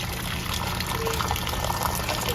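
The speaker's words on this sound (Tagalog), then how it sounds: "magpapantay ng tubig para sa pansit canton" Water pours steadily into a pan while making pancit canton, a continuous close gushing fill with no talk.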